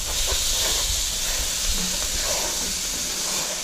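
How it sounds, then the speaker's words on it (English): Steady loud hiss of steam rising as deer venison goes into hot roux in a pan, a continuous broadband rush filling the whole clip with faint underlying clatter, close and without talk. "It's gonna put off a lot of water, a lot of steam."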